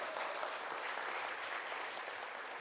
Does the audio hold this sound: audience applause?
yes